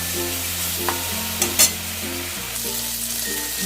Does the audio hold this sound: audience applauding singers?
no